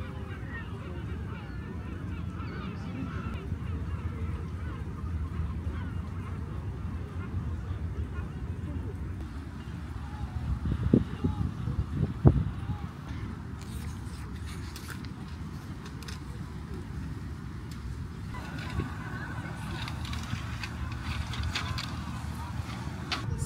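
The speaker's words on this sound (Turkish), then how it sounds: "Martı sesleriyle kitap okumak" Seagull calls drift over a steady outdoor background at a seaside camp spot with a chair and hammock, mostly distant, with a brief cluster of louder cries near the middle.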